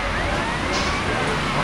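A Grand Theft Auto Vice City fire truck siren wails steadily and loudly, with a constant engine and traffic din underneath, the same level throughout.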